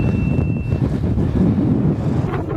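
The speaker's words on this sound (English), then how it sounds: "It's very, very windy." Strong wind roars steadily across the microphone atop Dune 45 in Namibia, a constant heavy buffeting rumble with no voices.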